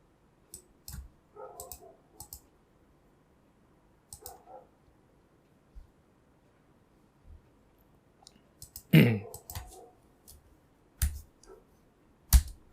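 Sparse computer keyboard typing, a few soft isolated keystrokes and short clusters of clicks separated by quiet gaps, with one louder key press near the end.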